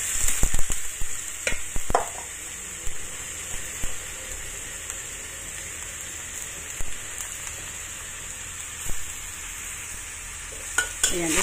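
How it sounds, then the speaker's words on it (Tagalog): Mushrooms and ground pork stir-fried in a pan for a Chinese-style dish, giving a low, steady sizzle with scattered clicks and scrapes of stirring. "i-fry lang natin yan hanggang sa lumabas yung aroma ng mushroom at saka onion"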